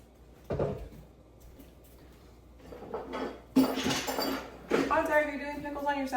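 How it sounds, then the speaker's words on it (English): A knife works through pickles on a cutting board, with scattered knocks and clinks from the board and kitchenware, while a person talks over much of it. "I'm going to slice up some pickles."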